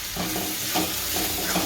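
A spoon stirs gram flour as it roasts in oil in a pan for a Gujarati green onion lotiyu, giving a steady close sizzle with soft scraping strokes about every second.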